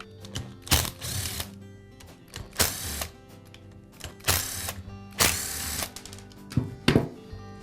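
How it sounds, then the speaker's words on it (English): Bursts of rapid mechanical ratcheting from removing screws from a DeWALT hammerdrill's rear cap, several short separate spells with quiet gaps, close and fairly faint. "The rear cap is secured to the housing with 4 screws. I'll remove those."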